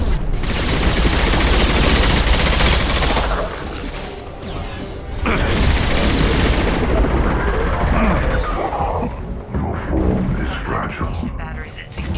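Dense, loud sci-fi gunfire and crashing impacts from a Mass Effect 2 battle fill the scene almost continuously, with bursts thinning toward the end while voices speak over the combat.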